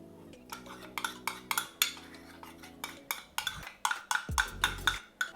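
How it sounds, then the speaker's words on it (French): Chocolate zucchini cake batter with melted chocolate being stirred in a bowl, a utensil scraping and knocking against the sides in a steady rhythm of clinks, close and clear with no speech. "On remélange tout ça."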